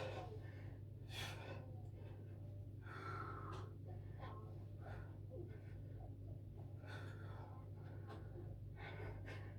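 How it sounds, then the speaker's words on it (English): Breathing during a live workout exercise, exhaling in time with muscle contractions: a series of short, sharp, rhythmic breaths, some nasal, close but faint over a steady low hum. "I'm regulating my breathing with the contraction. Trying to exhale with the contraction."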